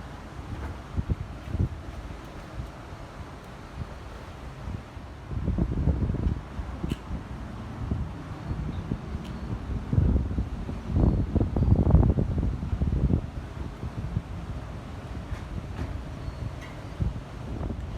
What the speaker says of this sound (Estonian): Tuul on suht raigem ja ma ei tea, kas see mühing kostab sisse ka või ei kosta